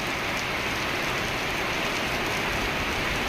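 Steady heavy rain pours down in a dense, unbroken hiss, loud and close, with no voices over it.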